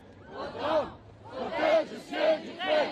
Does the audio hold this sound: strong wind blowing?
no